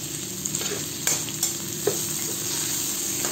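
Sliced tomatoes sizzle steadily in a hot pan while a utensil stirs them in, with a few light scrapes and clinks over the continuous frying, while cooking mung beans with pork chop.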